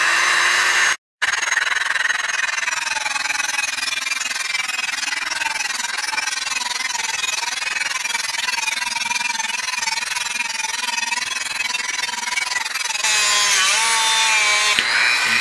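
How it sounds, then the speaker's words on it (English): A Dremel rotary tool fitted with a cutoff wheel grinds through steel landing gear wire for a Mud Duck Sport model, a steady high-pitched whine running close and loud almost the whole time, broken by one brief pause near the start. "a Dremel tool with the cutoff tool. And I'm going to just cut where I marked my first mark"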